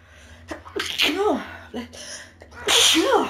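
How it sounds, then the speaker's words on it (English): A person sneezes close to the microphone, with a sharp burst preceded by gasping inhales and followed by a second forceful sneeze, amid a few breathy vocal sounds. "Oh, I'm gonna sneeze."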